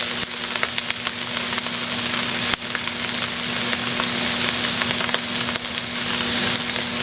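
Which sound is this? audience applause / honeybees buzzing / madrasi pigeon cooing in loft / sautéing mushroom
sautéing mushroom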